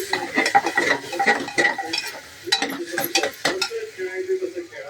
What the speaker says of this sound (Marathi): हलवू का सगळं ते? हलवून घ्यायचं.